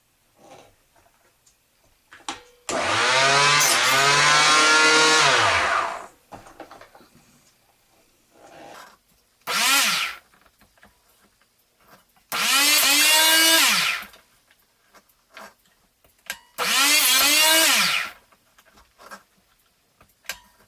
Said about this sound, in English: Okay, I'm going to cut the dowel.